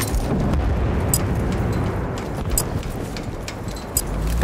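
Rocket blasts in Battlefield Bad Company 2 on the Panama Canal map rumble as a dense, continuous roar of battle, with short sharp cracks standing out now and then.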